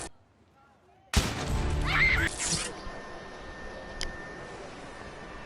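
In Watch Dogs Legion, an electronic device self-destructs: after near silence, a sudden loud crackling burst erupts, then fades into a steady hiss with a faint click.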